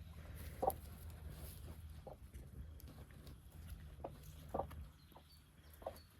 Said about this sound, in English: Chickens are really built for colder weather, not hot one.